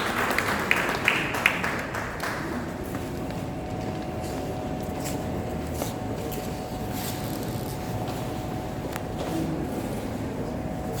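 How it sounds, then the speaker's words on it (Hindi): Audience applause welcoming a minister at the 67th foundation day event of Lalit Kala Akademi, a burst of clapping at the start that fades into a hall murmur with a faint steady hum. "तालियों से स्वागत करें मंत्री महोदय का।"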